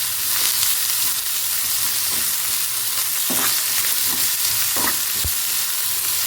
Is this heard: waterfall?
no